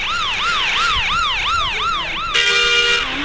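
Ambulance siren from an Indonesian bus simulator game, a loud wailing rise-and-fall sweep repeating steadily about every half second, then switching abruptly to a sustained high-pitched steady tone, alone with no talk.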